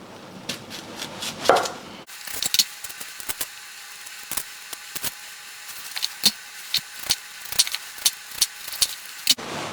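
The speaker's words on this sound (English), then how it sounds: "So let's start by slicing the onions." Close knife cuts through onions being sliced into rings for Filipino beef steak (bistek Tagalog), a steady run of sharp taps on a board after a short burst of handling noise.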